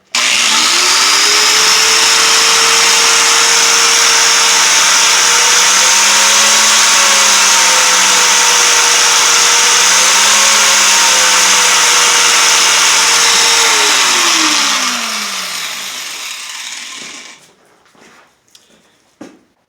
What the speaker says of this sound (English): now when you hear the power tool, you'll know what I'm doing.